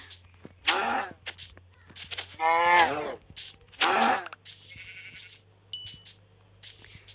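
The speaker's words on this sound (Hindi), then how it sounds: "एक और बकरी है इधर" Goats bleat in the Minecraft survival game, several loud wavering cries spaced irregularly over a low steady hum, with small clicks and game sounds between them.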